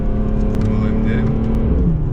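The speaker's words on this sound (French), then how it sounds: "Bon, on va essayer d'accélérer." A 580 hp BMW M3 F80 with worn tyres accelerates hard, its engine a loud, close, deep roar held steady through the moment, with no talk over it.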